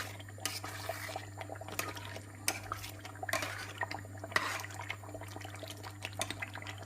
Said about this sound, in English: just add a tad bit of water to it, just to give it the right consistency